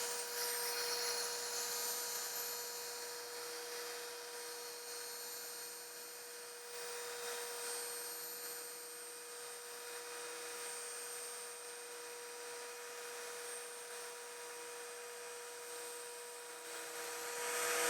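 A rotary polisher whirs steadily on car paint, its motor giving a faint, continuous hum with a sustained tonal whine throughout, without talk.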